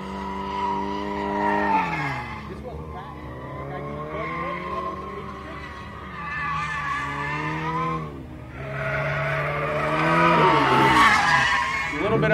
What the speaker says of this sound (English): this is Angel French out there in his Subaru.